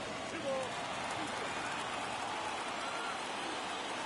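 Steady crowd roar from a baseball video game stadium during an ALCS playoff game, a broad continuous wash of cheering and noise holding at an even level throughout without clear breaks.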